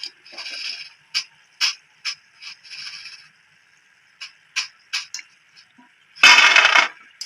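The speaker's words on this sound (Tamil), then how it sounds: "போடும்போதே கலகலான்னு சத்தம் கேட்குது பாருங்க." Balls of seedai dough are dropped into hot frying oil, giving short crackling bursts at irregular intervals, followed by a louder, denser sizzling burst near the end.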